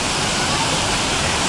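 Düden waterfall in Antalya, Turkey roars as a steady, dense, loud rush of falling water, unbroken and close, with no other sounds standing out.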